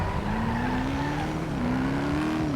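A Porsche in the NoPixel GTA roleplay game roars along with a long, continuous tire squeal and steady engine hum, loud and close, its pitch sliding gradually as the car skids.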